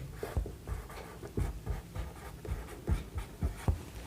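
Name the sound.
writing a math equation by hand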